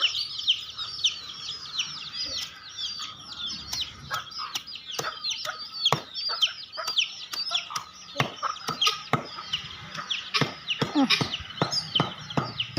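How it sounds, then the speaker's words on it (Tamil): Many guinea fowl chicks cheep in rapid, high repeated peeps, mixed with scattered clucks and clicks nearby, continuing throughout. "கிண்ணி கோழி அவங்க அம்மாவை தேடுதா"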